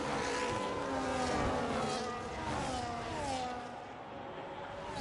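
Race cars in a Formula-style racing video game at the Azerbaijan round sweep past along the main straight, their high engine whine rising and falling steadily and loud throughout, with no talking.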